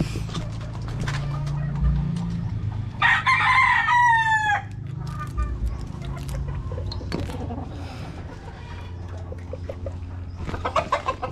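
A rooster crows loud and close among hens clucking in a backyard coop holding laying chickens and young Albany pullets, the crow ringing out alone amid scattered clucks and soft rustling.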